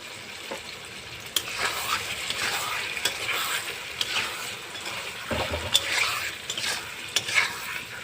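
Fish head frying in a pan with a paste of ginger, garlic, coriander, cumin, turmeric and green chilli, a steady close sizzle broken by sharp scrapes and clatters as it is stirred.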